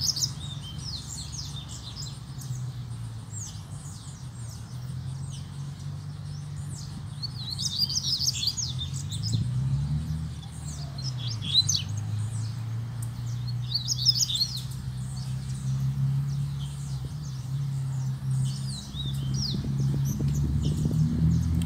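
Double-collared seedeaters (coleiros) chirp near a cage outdoors, with repeated high, bright tweets and short song bursts throughout over a steady low background hum.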